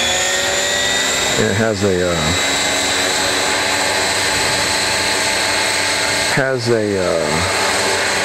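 A Roban HH-60 Jayhawk 600-size scale RC helicopter on a single 6S power system runs with a loud, steady high-pitched whine of motor and rotors, while someone talks close by.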